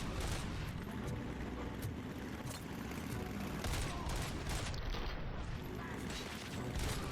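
Gunfire in the RoboCop video game, continuous rapid shooting with booming impacts and mechanical clatter, loud and dense throughout with little pause.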